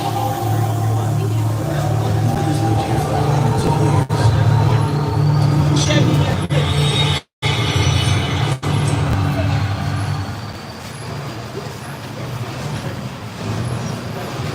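A Universal Studios tram rumbles along on its rails with a steady low drone, loud and continuous, while people talk over it.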